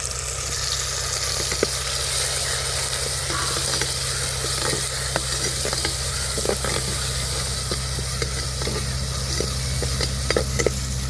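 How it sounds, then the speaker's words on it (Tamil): Ground tomato added to sautéed onions and green chillies sizzles loudly and steadily in the pan, with repeated spoon scrapes and stirring clicks over a low constant hum. "இந்த ஸ்டேஜில் நம்ம அரைச்சி வச்ச தக்காளியை சேர்த்துக்குவோம்"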